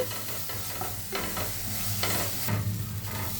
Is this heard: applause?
no